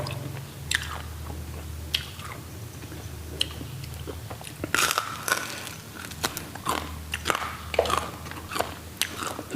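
Someone bites into grilled buffalo skin eaten with fermented fish dip. The close-up crisp crunches come in irregular bursts, with softer chewing between them over several seconds.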